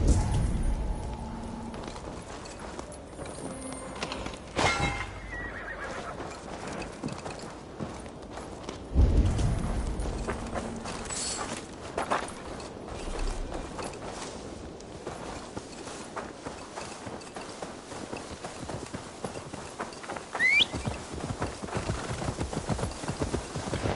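Horse hooves clip-clop in Assassin's Creed Valhalla, a steady walking rhythm of hoofbeats continuing throughout with occasional heavier thuds and a brief whinny-like sound, fairly close and clear.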